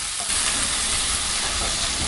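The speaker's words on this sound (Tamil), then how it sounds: "இப்போ நம்ம வெங்காயம் போட்டுக்கலாம். பொன்னிறமாகிற வரைக்கும் நல்லா வதக்கிக்கணும்." Onions sautéing in hot oil for a vegetable mushroom biryani: a loud, dense, continuous sizzle and crackle up close, steady throughout with no talk.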